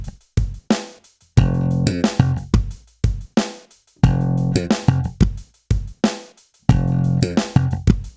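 A slap bass lick starting on F, with punchy slapped and popped notes repeated in short bursts with brief gaps between them, loud and close with no speech.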